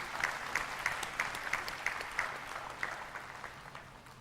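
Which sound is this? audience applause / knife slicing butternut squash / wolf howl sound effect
audience applause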